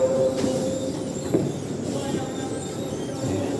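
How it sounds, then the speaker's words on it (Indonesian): Low rumbling hum of a KRL commuter train waiting at a busy Jakarta station platform, with a brief metallic squeal and faint crowd murmur in the background. "Tuh, keretanya sudah ada yang sebelah kanan tapi belum jadwal keberangkatannya"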